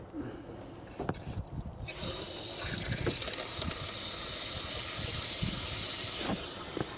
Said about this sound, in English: I recommend taking your hose and running it through the passageways just to flush out.